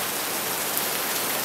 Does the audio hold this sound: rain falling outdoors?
yes